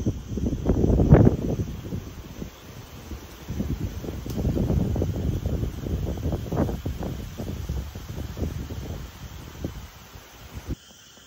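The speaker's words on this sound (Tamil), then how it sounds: "காற்று, பூச்சிகள் சவுண்டு." Wind moves through a deep forest on a rainy night, a soft, continuous rushing and rustling of leaves that swells and eases over several seconds, with a faint steady insect hum high above and no voices.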